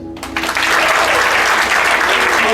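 Comedy show audience claps after a brief pause, a burst of applause that builds quickly and holds at a loud, even, full-room level.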